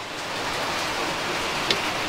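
Steady rain from a typhoon hisses continuously, a dense wash of falling water with no voices and one brief brighter tap near the end.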